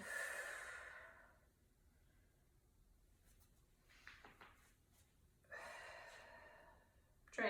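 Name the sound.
deep breathing during a warmup exercise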